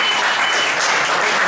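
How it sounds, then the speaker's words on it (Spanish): Dense, loud audience applause for a documentary presenter at a Spanish talk fills the short stretch evenly, with no voice over it. "Un fuerte aplauso para Javier."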